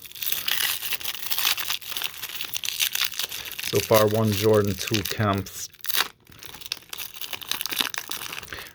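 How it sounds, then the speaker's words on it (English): 1990 Skybox basketball card packs are torn and crinkled open up close, with rustling foil wrappers and sharp ripping bursts. Someone speaks briefly partway through. "Really should have a scissors to open these, man. These packs are pretty tough to open."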